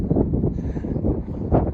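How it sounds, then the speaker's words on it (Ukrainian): Strong outdoor wind buffets the microphone beside a freshly mown patch of mixed grass with nut trees, a loud continuous low rumble with gusty surges and no speech. "За таку якість звуку і все решта, вітер шалений в нас."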